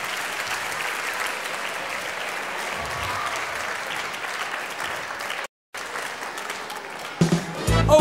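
An audience at a live children's concert gives the performer sustained, dense applause, steady and loud throughout, broken by a brief dropout before clapping and cheering resume toward the end.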